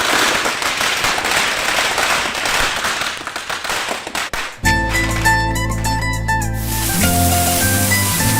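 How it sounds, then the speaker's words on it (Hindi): Firecrackers burst in a rapid crackling string at a home celebration, loud and close, before giving way to music. "फटाका फूटा थे देख ना।"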